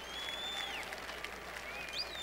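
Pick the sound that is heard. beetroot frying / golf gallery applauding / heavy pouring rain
golf gallery applauding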